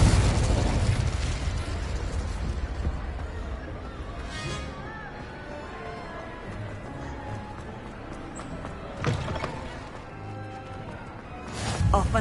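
Spell blasts in Hogwarts Legacy, Incendio and Confringo, fire as loud bursts, with a strong hit at the start, another around the middle and one near the end, over game sound that includes horse-like hoofbeats.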